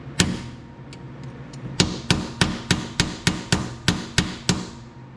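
A small hammer strikes a metal all-purpose punch, one early hit then a rapid, even series of about ten sharp taps, close and loud, while replacing a John Deere E100 mower brake lever.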